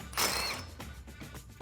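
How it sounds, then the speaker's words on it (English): A ratchet with a 15mm socket removes a brake line bracket on a Jeep Wrangler JL. A burst of mechanical ratcheting comes first, followed by a few fainter clicks and creaks, close and brief. "with our 15mm socket, removing the bracket"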